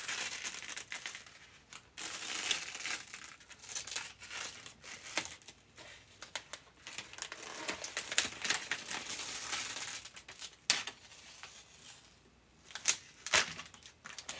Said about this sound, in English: I think it's time to peel the tape